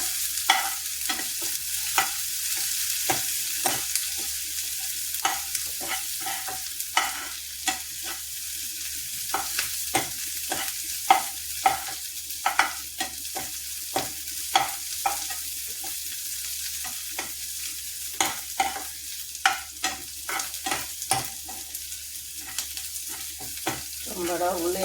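Small shallots fry in a pan for a Kerala curry, with a constant soft sizzle and repeated scraping stirs at an uneven rhythm, close and clear throughout, with no speech.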